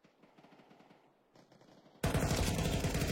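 Video game match gunfire: quiet rapid automatic fire ticks along at first, then a sudden loud, dense burst of shots fills the final second, with no talk over it.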